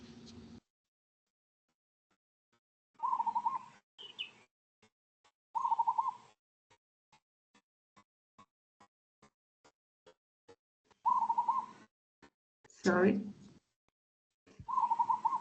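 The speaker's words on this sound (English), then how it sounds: "I can hear a bird." An unusual tropical-sounding bird calls in short, repeated coos with long gaps between them, faint and in the background, while people talk briefly over a meeting call.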